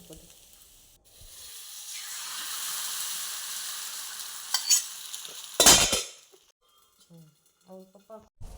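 An egg omelette dosa sizzles and fries on a griddle, a steady close hiss that swells mid-clip, followed by a brief loud scrape and then quiet soft clinks.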